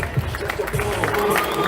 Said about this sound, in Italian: un applauso all'ultima categoria